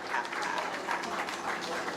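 An audience at a Hindi comedy poetry recital claps for the poet, a steady moderate wash of clapping with a voice faintly underneath.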